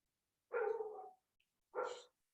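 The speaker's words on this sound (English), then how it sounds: "Whose doggy's barking?" Dog barking in the background indoors, two distinct barks about a second apart, faint and somewhat distant, no talk.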